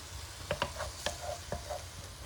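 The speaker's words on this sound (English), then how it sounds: "I'm gonna move this egg around some." Scrambled eggs for huevos rancheros being pushed around a hot electric skillet, with several distinct scraping stir strokes over a steady soft sizzle, close and fairly quiet.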